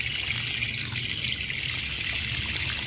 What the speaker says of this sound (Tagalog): kahit sariling tanim, hugasan natin ng mabuti ang kangkong.